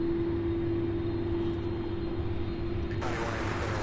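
An aircraft taxis at Louisville International Airport with a steady engine drone and a persistent tonal hum. A burst of hiss enters near the end, and no one speaks.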